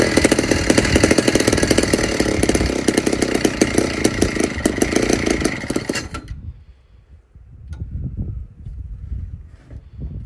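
A McCulloch Mac 15 chainsaw engine runs loud and raspy for about six seconds, then cuts out abruptly, leaving quieter low rumbling and faint background noise.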